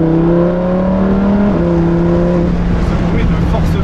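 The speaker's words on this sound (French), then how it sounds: "bruit de force pure du V10 qui est incroyable" Loud, close Lamborghini Huracán EVO V10 engine drone with strong steady tones at full throttle, a brief pitch shift midway, then a rougher roar; a voice may speak over it.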